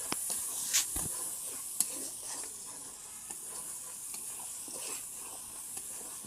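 Chopped onion and garlic frying in a pan for a Malabar spinach fruit dish: a faint, hissing sizzle with a few soft stirring knocks, heard alone.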